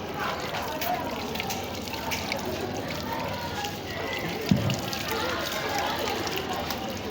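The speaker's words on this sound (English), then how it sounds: "I've opened the tap for her." Water runs from an opened tap for handwashing at a hygiene demonstration in Nigeria, a soft continuous trickle with one small splash, under a hum of voices in the room.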